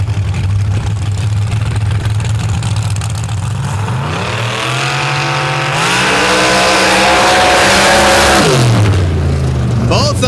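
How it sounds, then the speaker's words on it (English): A rear-engine dirt rail race car at a drag racing championship final idles with a low rumble, then revs hard into a loud rising roar before dropping off, with an announcer talking over it. "Lining up next to Daniel Carher in that Racing in the Dirt chassis rear engine rail."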